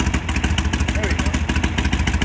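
A Harley motorcycle engine running close by with a steady, loud, rapid lumpy chug that stays even throughout, with a voice briefly present over it.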